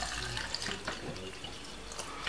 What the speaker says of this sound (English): Now we're going to fill this with some water